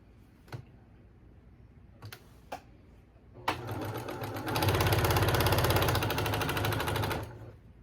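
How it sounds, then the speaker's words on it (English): A sewing machine chain-pieces quilt blocks: a few isolated clicks, then the motor revs up into a fast, steady, loud run of stitching for several seconds before stopping. "So I'm just going to start chain piecing,"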